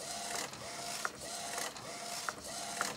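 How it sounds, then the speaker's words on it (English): An Epson P800 printer prints a direct-to-film image, its print head carriage sweeping back and forth in a regular mechanical rhythm with faint clicks at each pass, quiet and close. "Look at the image printing on my printer."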